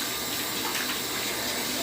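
Water running steadily from a tap while a dog is bathed, a constant close rushing hiss without pauses.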